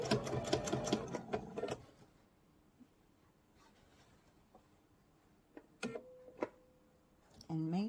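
A sewing machine stitches a Bali bowl with short bursts of fast, even rattling, first near and loud, then again briefly near the end, with quiet handling noises between.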